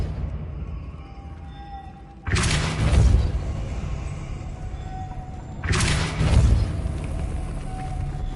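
Two loud, heavy magical blasts from the Depulso force-push spell in the Hogwarts Legacy video game, each a sudden booming burst that rolls off over a couple of seconds, separated by a short lull.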